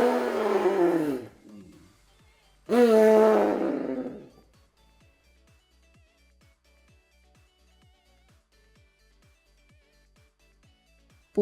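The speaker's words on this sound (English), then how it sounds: "Elephant." An elephant calls twice, each a loud, harmonic, roaring blast lasting one to two seconds, followed by quiet with faint, evenly spaced clicks and no talking.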